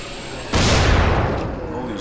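An explosion in the zombie game Dying Light, a sudden loud boom that rolls out and slowly decays over a couple of seconds, heard alone.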